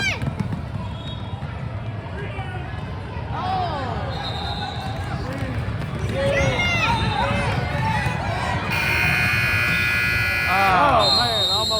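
Youth basketball game in a gym: sneakers squeak and the ball bounces amid crowd noise and shouting, then a long electronic buzzer sounds loud and steady near the end of the period, followed by more squeaks and cheering.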